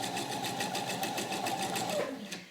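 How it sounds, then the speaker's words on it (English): A sewing machine stitches a seam close up, sounding as a fast, even run of mechanical clicks that slows and fades near the end. "I'm going to start sewing with a 6mm seam allowance here"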